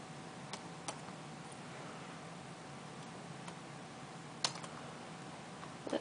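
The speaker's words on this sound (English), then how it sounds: "let me type in" A computer keyboard gives a few sparse, faint key taps over a steady background hiss.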